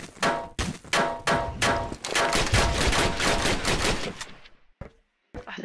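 Rapid bursts of gunfire in a Roblox zombie game, dense repeated shots with metallic clangs firing almost nonstop, then a brief gap and a final shot.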